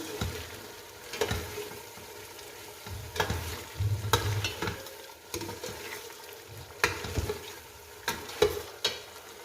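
Beef biryani masala with biryani spice mix is stir-fried in a pot over a low sizzle. A spoon scrapes and knocks in irregular bursts, up close and without talk.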